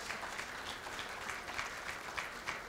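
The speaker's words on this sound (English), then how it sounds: "How about a big round of applause for our caterers for tonight's event," An audience claps steadily at an athletic hall of fame dinner, a dense, even wash of applause from a roomful of people with no voices over it.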